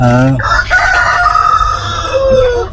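A rooster on a heritage chicken farm crows loudly and close by at the start, followed by steady hen clucking and more crowing-like calls throughout.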